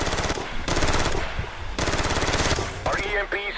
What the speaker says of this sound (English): There's actually a guy right around this corner firing the vector here